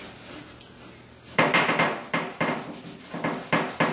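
Dark mule deer and elk antler tips rubbed down by hand, giving a series of close, dry rasping strokes in a steady rhythm after a quiet start, with no talking.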